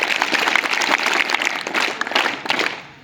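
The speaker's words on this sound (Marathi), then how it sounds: "जोरात टाळ्या वाजवायच्या आहेत." An audience of students at a junior college quiz competition claps loudly for a contestant, with dense, sustained applause that fades toward the end.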